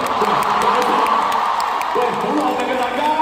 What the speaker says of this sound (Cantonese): 我哋俾掌聲先啊！